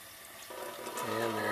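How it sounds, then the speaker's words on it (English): Hot water beginning to pour and fill inside a coffee brewer as brewing starts, a soft trickle that rises and grows louder over a second and a half, up close, with a voice talking over it. "You can hear the solenoid kick in, and pretty soon water's going to start coming out."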